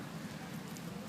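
Steady rain falls outdoors in a park where squirrels are being fed, a soft, even patter holding at a constant low level for about a second with no voices.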